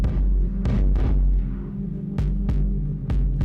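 Deep synthesized kick drum thumps from VCV Rack with reverb, spaced irregularly, each with a reverberant tail, over a sustained low hum and a dense mix.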